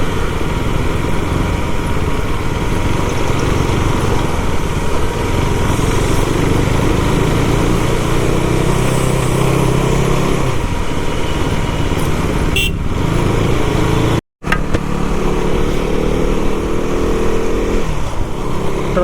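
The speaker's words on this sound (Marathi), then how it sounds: "ट्रॅफिक पुण्याची ट्रॅफिक." Dense road traffic in Pune, with motorcycle engines droning and car horns tooting amid a steady, loud roar of vehicles that barely lets up, and no talk over it.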